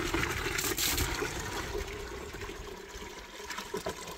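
Cold tap water pours steadily in a mountain-home bathing spot, the stream swelling thick then thinning under pressure changes, a close continuous splashing gush with no talk.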